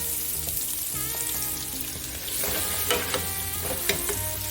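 A whole head of garlic sizzles steadily in hot pork fat, frying under occasional stirring clinks and scrapes of a utensil in the pan, close and continuous with no talk.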